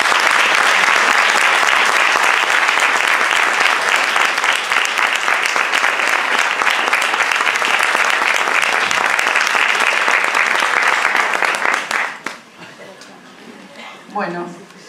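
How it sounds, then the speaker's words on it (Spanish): A crowd at a political gathering gives loud, sustained applause for council pre-candidates of the Frente Ciudadano in Rosario, clapping dense and steady for about twelve seconds before fading abruptly, followed by faint voices. "Pido un fuerte aplauso para ellos."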